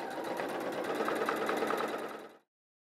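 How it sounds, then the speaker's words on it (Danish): A sewing machine stitches around the edge of a jacket in one continuous fast, even buzzing run, loud and close, then stops abruptly. "Så fik jeg syet stikningen hele vejen rundt."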